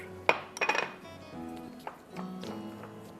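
A spoon clinks against a bowl while cornflour is stirred into milk for a chicken and corn chowder: a few sharp clinks early on, then softer, scattered taps and scraping. No one speaks.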